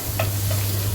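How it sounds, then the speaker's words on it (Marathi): Chopped onion frying in hot oil for a tempering gives a steady, close sizzle with a faint stir or clink, and no one speaking. "बारीक चिरलेला कांदा घालायचा फोडणीला"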